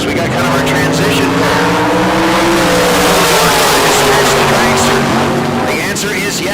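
A Corvette and a dragster drag racing at a bracket race, loud engines roaring and rising in pitch as they launch down the strip, with an announcer talking over the noise.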